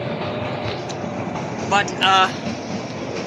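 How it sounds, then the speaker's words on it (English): A train on a Himalayan mountain railway running through the Koti Tunnel: a loud, steady enclosed rumble with a couple of brief higher metallic squeals, and a voice speaking a word over it. "as this train switches back and climbs up to an appropriate level length"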